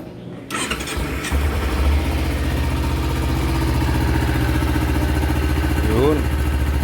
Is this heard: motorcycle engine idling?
yes